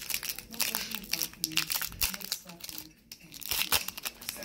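A 2018 Score football card pack is torn and crinkled open up close. Its foil wrapper rustles and rips in quick bursts, with children talking over it.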